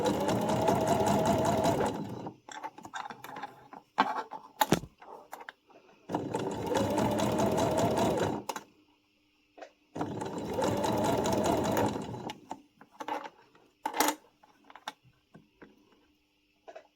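A sewing machine stitches cotton gauze in three steady runs of about two seconds each, with quieter handling noises and small mechanical clicks in the pauses between bursts.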